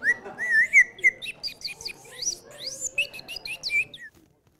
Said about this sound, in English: this is a bird whistle from the Andy Lamy collection